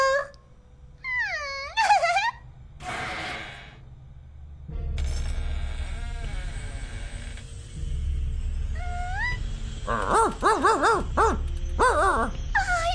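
A cartoon dog yelps and whines in high, sliding cries, some in quick bursts, over a steady low rumble of music or ambience, with no talk.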